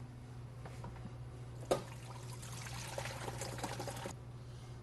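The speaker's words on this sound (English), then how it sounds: "we're going to drain this out." Sanitizer drains from a SaniServ WB 700 frozen beverage machine as a faint, steady liquid pour and trickle over a constant machine hum, with a brief clunk partway through and no one speaking.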